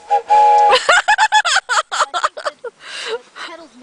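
A whistle is blown beside a ride-on Hornby train: one steady, fairly loud tone lasting about half a second, followed at once by close-up talking from several people.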